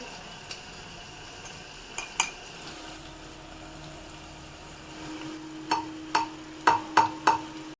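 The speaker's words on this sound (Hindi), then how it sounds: "बस इसको मिक्स करना है अच्छे से" Bell pepper and tomatoes being stirred in a pan, a faint low sizzle under several sharp utensil scrapes and knocks, scattered at first and then clustering into a quick run of taps near the end.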